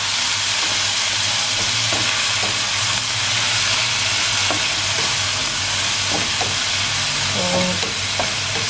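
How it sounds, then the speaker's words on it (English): Tamarind soaked in lemon juice poured into a hot pan for tamarind rice, giving a steady loud sizzle and steamy hiss with light stirring scrapes and clinks throughout. "I'm going to add the juice of tamarind soaked in lemon."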